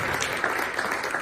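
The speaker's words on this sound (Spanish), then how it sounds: "Denle palmas al Señor" A church congregation claps during a Spanish-language sermon, a brief dense burst of hands that is steady and fairly loud, with a hint of voices underneath.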